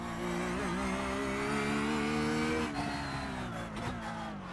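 A Porsche GT3R race car in the iRacing game accelerating out of a turn at Long Beach, a steady loud engine drone rising gently in pitch, then a brief shift-like break and a slight dip near the end, with no voices.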